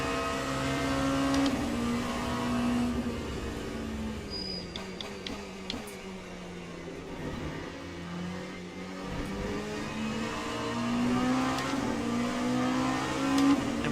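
LMP2 prototype race car engine in the sim racing game Le Mans Ultimate, a continuous high-pitched engine drone rising and falling through gear changes, with faint passing whooshes of other cars.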